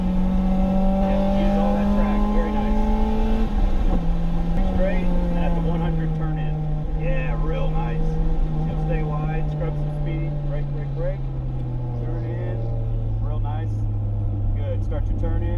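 A race car's engine drones steadily at full throttle on a wet track at a NASA season-opener session, its pitch easing lower toward the end, with a voice talking over the constant roar.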